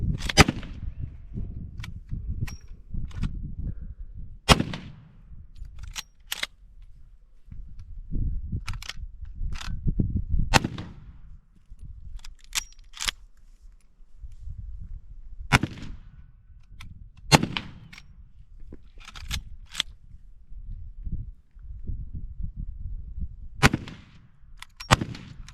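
Shots from a Henry 30-30 lever action rifle at an outdoor shooting day, a dozen or so sharp cracks spaced irregularly, loud and close, with lever cycling and handling noises between them.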